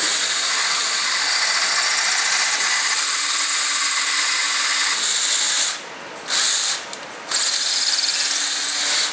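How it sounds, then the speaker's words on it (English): A loud, steady power drill whines continuously while drilling through a part of an F-14 Tomcat model, briefly cutting out and restarting twice near the end, close up with no talking. "It's not increasing it so much where I'm drilling through the sides."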